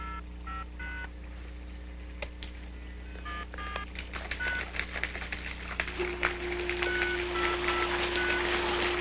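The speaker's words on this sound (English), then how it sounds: "You know, Willard, with this cordless phone, I can control everything in my yard" Keypad tones from a cordless phone sound in short, clean beeps, several spaced presses in a row, fairly close over a steady low background hum, with a higher continuous tone joining partway through.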